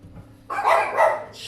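Dogs indoors let out two or three loud, close barks in quick succession, with no voices over them.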